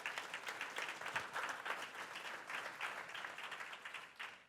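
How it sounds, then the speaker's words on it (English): Audience applause at a Western Technical College day event, a steady wash of moderate clapping from a crowd lasting several seconds with no talk over it. "You go ahead and applaud for those folks"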